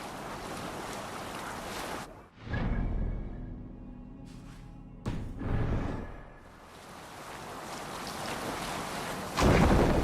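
A ship at sea in Assassin's Creed Valhalla, with a steady roar of wind and waves and deeper rushing swells breaking in twice, loud and continuous with no voices.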